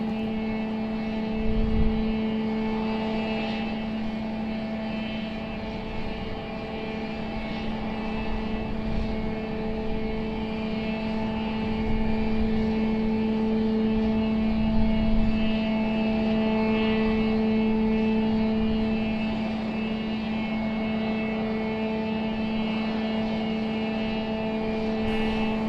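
A Southwest airliner taxis out at Raleigh-Durham International Airport with a steady engine drone and a tonal whine, moderately distant and continuous. No one talks.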